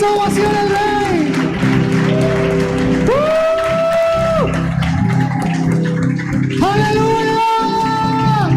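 A church congregation applauds loudly and continuously under sustained singing and instrumental tones, with voices rising over the dense clapping throughout.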